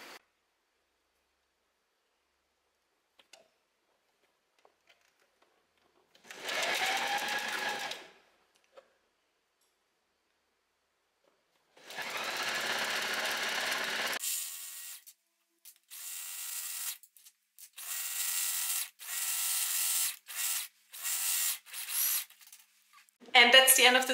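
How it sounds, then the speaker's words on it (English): A sewing machine stitching a mini skirt runs in several bursts, a steady mechanical whirr that stops and starts, with short rapid stitching runs near the end. "Go straight to your sewing machine,"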